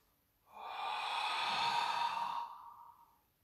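A long, complete exhale through the mouth during a yoga session, one soft breathy whoosh that swells, holds for about two seconds and fades, heard up close with no talking.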